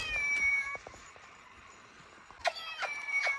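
A few short meows from a cat in a video game, one early and a cluster near the end, over a soft background hum.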